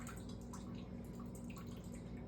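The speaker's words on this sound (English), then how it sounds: "And now we can just dump the rest of this water out of there." Water is poured out of a pot of cooked pasta shells, a quiet close trickle and splatter of liquid with scattered drips.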